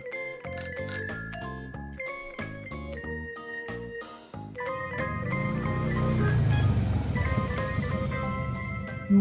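A bicycle bell rings in a quick series of bright, clear dings at the start, followed by a fuller, sustained noisy passage.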